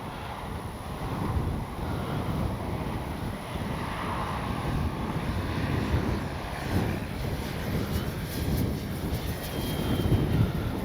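A P-47 Thunderbolt RC model airplane drones steadily in flight on a very windy day, its engine a continuous buzz under heavy wind rumble on the microphone.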